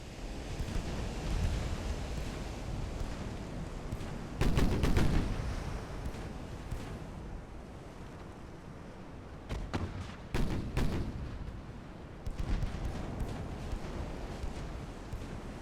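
Naval artillery shells fire and land in the warship battle game Ultimate Admiral: Dreadnoughts, heard as several rumbling booming bursts over a constant low roar, with the loudest volleys near the middle.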